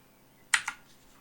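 Two quick keystrokes on a computer keyboard, close and crisp, entering a dimension value while editing a CAD model, with quiet before and after.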